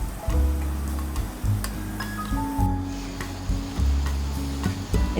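Chicken dipping mixture goes into hot oil and fries, crackling and bubbling close up with a dense, uneven sizzle and low sputtering pulses that rise and fall throughout.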